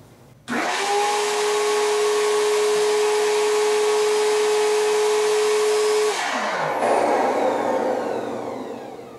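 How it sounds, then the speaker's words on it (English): Vacuum pump of a Ranar LED screenprinting exposure unit starts abruptly, holding a loud, steady motor hum with a constant whine for several seconds, then winds down as the pitch drops, leaving a softer airy hiss. "I'm gonna engage the vacuum"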